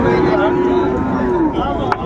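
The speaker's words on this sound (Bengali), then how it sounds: "শাহিওয়ালের ষাঁড় বাচ্চা" A young Sahiwal bull calf gives a long, low moo up close, drawn out over about two seconds, at a cattle market.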